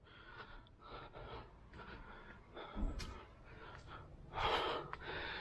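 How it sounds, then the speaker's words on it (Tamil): Heavy, ragged panting from someone climbing a hill on a trek, close and quiet, with several gasping breaths in uneven rhythm. "பயங்கரமாக மூச்சு வாங்குது அப்பா"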